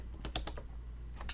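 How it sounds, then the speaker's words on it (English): Short bursts of typing on a computer keyboard while entering a chat message in Microsoft Teams, a few quick key clicks with a pause, fairly quiet and alone. "And so I can type in,"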